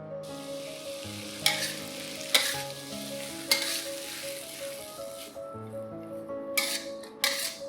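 Shredded potatoes with spring onions stir-fried in a wok, a steady sizzle under repeated sharp scrapes and clanks of a spatula tossing the food, with a quiet stretch near the end.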